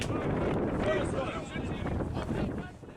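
Strong wind buffeting the microphone at an outdoor semi-pro football match, a loud continuous low rumble that surges and eases, with voices faintly mixed in underneath.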